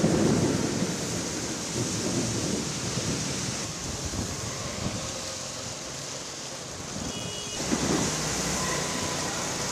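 Heavy late-night downpour during a thunderstorm across Chennai streets, a dense steady roar of rain with low rumbling thunder rolling through, a sharper crack near the end, no voices.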